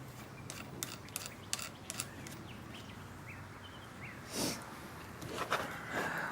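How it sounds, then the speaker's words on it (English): A ratchet bolting up a 1-ton GM rod end, with a few quick clicking bursts early on, then quieter workshop ambience with faint bird calls and a couple of louder knocks near the end. "we'll bolt it up here and see if we have to go further to make that bushing flat"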